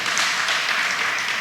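A church congregation at a service on marriage commitment applauds in a dense, even wash of clapping that holds steady and fairly close throughout, with no voices rising above it.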